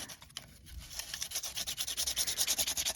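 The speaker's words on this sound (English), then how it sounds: "try to sand a couple of places. And for that, I'm going to be using a nail file" A nail file is rubbed back and forth over a mixed media card, starting slow and uneven, then settling into a steady rhythmic rasping that builds in loudness, heard up close with no talking.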